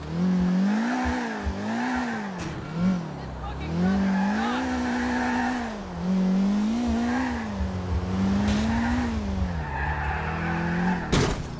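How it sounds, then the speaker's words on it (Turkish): A Grand Theft Auto IV car engine drones steadily, its pitch rising and falling in repeated waves as it revs, with tire squeals and a sharp burst near the end. "Sürekli değişik bir ses çıkartıp duruyor ya."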